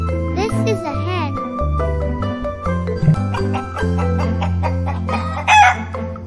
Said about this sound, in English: This is a hen.